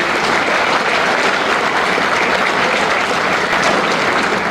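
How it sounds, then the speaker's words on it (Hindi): A crowd at a cargo terminal inauguration in Haryana claps loudly and steadily, a dense, even roar of many hands with no voices rising above it. "अच्छा लग रहा तो एक बार जोर से ताली बजा के।"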